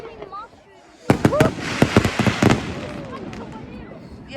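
A Bonfire Night fireworks display fills the air with a rapid burst of sharp crackling bangs followed by lingering fizz and whistles, fairly close, while people nearby talk and exclaim.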